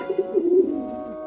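Pigeons cooing close by, a soft throaty burbling coo that rises and falls for about a second before fading.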